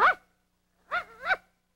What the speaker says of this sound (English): And Mac, your dog would like to say one thing to you.